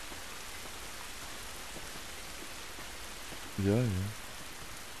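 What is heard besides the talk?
rain in video game The Last of Us Remastered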